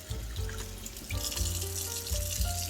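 Tap water runs steadily into a sink while a makeup brush is rinsed under it, a continuous close splashing flow with small shifts as the brush is worked and tapped against the basin.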